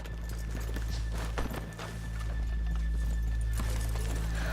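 Horses in the Red Dead Redemption 2 video game walk along just off a town's main street, their hooves clip-clopping steadily over a low ambient hum, with no talking.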